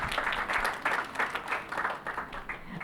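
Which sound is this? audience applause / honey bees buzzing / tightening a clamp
audience applause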